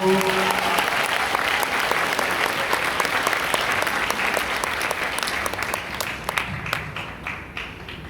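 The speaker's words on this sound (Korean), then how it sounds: "환영의 박수로 한번 해주세요" A church congregation at a worship gathering gives a warm burst of welcoming applause, loud and sustained, then gradually thinning and fading toward the end.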